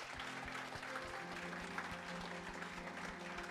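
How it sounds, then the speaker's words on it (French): Audience applause at a praise concert, steady clapping filling the room over low sustained music, continuous and fairly distant throughout. "Je veux que vous applaudissiez pour eux."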